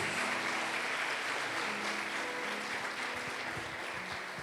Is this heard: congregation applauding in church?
yes